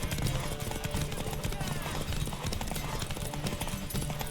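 A horse in The Witcher 3 trots with steady, rhythmic clip-clopping hooves throughout, close and clear over low ambient game sound.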